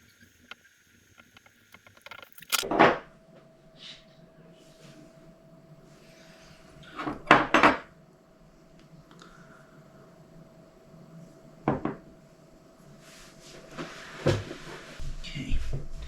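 The plastic motor housing of a P90 toy blaster is pried apart in a few sharp bursts of clicks and snaps, spaced out over a faint steady hum, close to the microphone.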